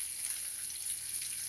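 Bacon strips fry in a pan with an even, bright sizzle that holds steady and close throughout the short moment, with no talking.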